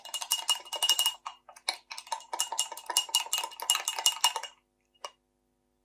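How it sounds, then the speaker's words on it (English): A spoon stirring banana pizza batter in a bowl, with quick repeated scraping clicks in an uneven rhythm for about four seconds, then a single tap after a pause, close and clear with no talking. "Just stir it all in so there is no big lumps left"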